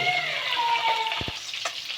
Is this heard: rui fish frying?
yes